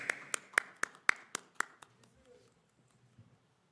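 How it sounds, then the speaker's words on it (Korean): Short burst of applause at a church youth worship service: about seven sharp, distinct claps in quick succession, close and fairly loud, fading into a quiet room. "격려의 박수."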